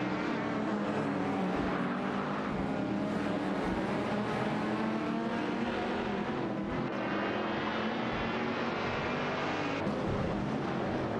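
Porsche 911 RS 2.7 and Ford Escort Mark II race cars in a racing video game, engines droning and revving continuously in close battle, with shifting pitch and no talk.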